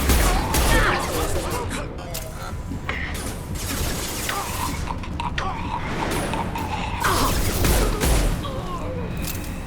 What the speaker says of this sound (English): Getting heavy fire!